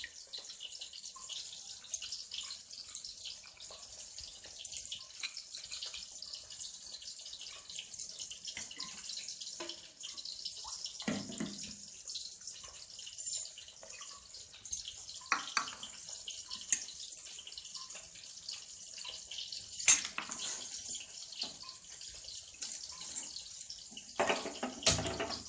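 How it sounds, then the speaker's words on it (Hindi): Water runs steadily into a kadhai while cooking fish head moong dal, a soft continuous stream with occasional drips and splashes and no talk. "कढ़ाई में पानी डालेंगे।"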